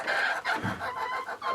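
Gentle hens cluck and murmur in a close, steady stream of short, throaty calls with brief pauses between them.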